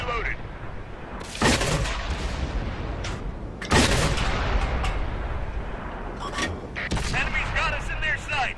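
Tank cannon fire and explosions in a tank combat video game, heard as heavy booming shots about every couple of seconds over a constant dense rumble of battle noise, with a voice talking now and then.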